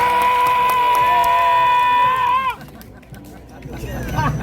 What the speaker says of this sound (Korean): 우리 손상대 시인에게 뜨거운 박수 한번 해주시기 바랍니다